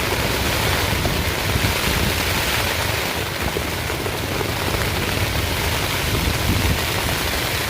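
Wind and rain batter a tent pitched on the Appalachian Trail, making a loud, unbroken wash of gusts and patter right against the fabric with no letup.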